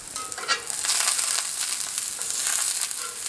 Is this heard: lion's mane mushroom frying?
yes